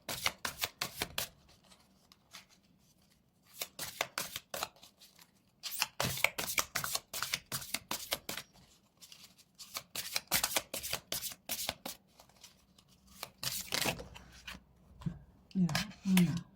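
Cards are shuffled for a reading in quick riffling bursts of crisp, rapid flicks, separated by pauses. The sound is close and moderately loud, and a voice speaks briefly near the end.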